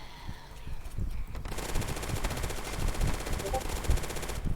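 Automatic gunfire from the Zombie Uprising video game hammers in rapid, continuous bursts after a brief quieter opening, close and loud, with dense overlapping shots and a few heavier blasts throughout.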